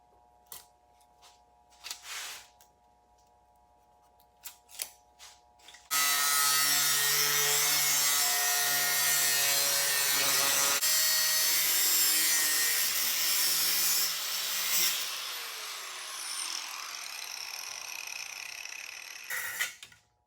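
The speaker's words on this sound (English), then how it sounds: "Rip a 17-inch piece right here." A saw rips a 17-inch strip of material for a Buick Regal air box, a loud continuous cutting roar lasting about nine seconds, preceded by a few light knocks and handling clicks and ending with a short rasp.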